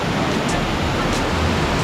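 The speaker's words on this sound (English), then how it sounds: "this is probably about as close as you're going to get to a live waterfall" A live waterfall at the Four Waterfalls in Wales rushes with a steady, dense broadband roar, loud and close, unbroken for the whole stretch with no voices over it.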